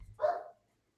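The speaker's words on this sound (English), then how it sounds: "that's my dog. It's bark at my neighbors." A dog barks once at the neighbors, a single faint, muffled bark heard from some distance off-microphone in a quiet room, followed by silence.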